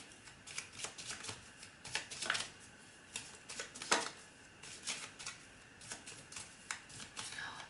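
Tarot cards being shuffled and drawn by hand, a run of crisp, papery riffles and flicks in uneven bursts, close and fairly clear with a soft murmur underneath.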